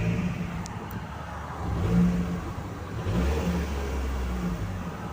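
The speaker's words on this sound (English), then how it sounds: "So let's give it a few revs." Manual 2023 Abarth 695 with a valved Monza exhaust revved while parked in comfort mode, a steady mid-pitched engine drone swelling in two short rev surges, close and fairly loud with no talk.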